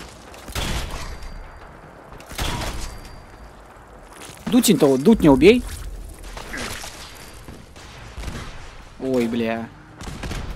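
Rapid enemy gunfire in Fallout 4: Far Harbor arrives in several separate bursts spread across the stretch, some loud and close, while someone talks and exclaims between and over the shots.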